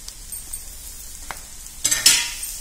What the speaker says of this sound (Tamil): ஸோ இதை நல்லா வதக்கிக்கலாம்.